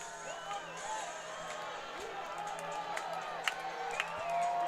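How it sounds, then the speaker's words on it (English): A distant baseball stadium crowd cheers and claps in a sustained roar, with whistles and a few sharper shouts rising near the end. "As the clapping begins, even the technical room is standing up beside of me."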